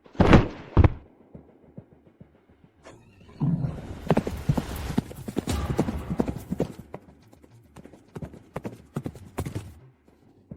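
Horse hooves clip-clop on a hard surface in a historical drama, a couple of loud close thuds at first, then a quick run of irregular hoofbeats with some clatter and movement sounds.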